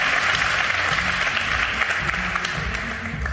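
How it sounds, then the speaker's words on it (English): A crowd at a World Pool Masters pool match applauds, a loud, sustained clapping from many hands in an indoor arena that fades slightly toward the end. "Listen to the crowd."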